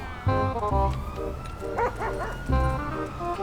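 A dog in the video game GTA V barks repeatedly and loudly up close, giving sharp yips and a whimpering whine in short bursts with pauses between them.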